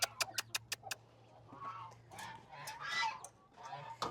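Several sharp goose honks in quick succession open the clip, followed by more scattered bird calls over steady low background noise.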